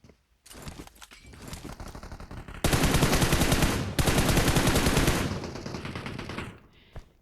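Rapid automatic gunfire in PUBG Mobile, loud and close, a long dense burst that intensifies midway, briefly breaks, resumes, then tapers off with a final isolated shot.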